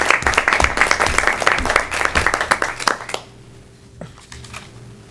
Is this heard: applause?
yes